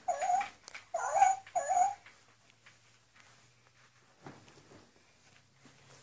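An interactive toy puppy, Jay-Jay, gives three quick, high whimpering yelps close by, then falls mostly quiet apart from faint rustling and a soft sound near the end.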